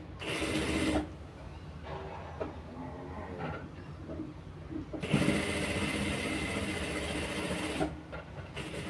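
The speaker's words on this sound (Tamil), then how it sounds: "இந்த சென்டரில் ஒரு ஸ்டிச் போட்டுக்குவோம்" An electric sewing machine stitches fabric in bursts, a close rapid mechanical chatter that starts and stops with short pauses between runs.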